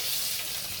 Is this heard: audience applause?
no